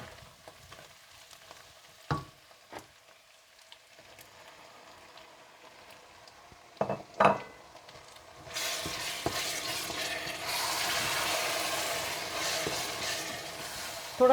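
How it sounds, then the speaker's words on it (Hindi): Minced keema frying with tomato puree in a pan for degi keema kaleji, a few spoon scrapes and stirs early, then a steady, louder sizzle taking over partway through. "अच्छी तरह भूनने के बाद आप इसमें टमाटरों की प्यूरी डालकर भून लें।"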